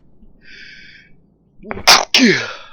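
A single loud, close sneeze with a sharp inhaled buildup bursts out after a quiet start with a faint tonal sound.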